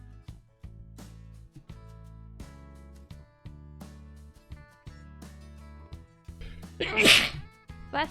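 A single sharp sneeze bursts out near the end, loud and close, over a steady animated-film soundtrack with music playing underneath.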